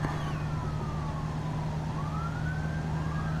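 A wailing siren sweeps slowly up and down in the background, steady and moderately loud over a constant low engine drone, with no voices.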